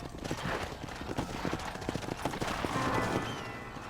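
Horse hooves clip-clop near a stable in the video game Red Dead Redemption, a quick irregular run of hoofbeats, close and fairly loud, with faint background sounds.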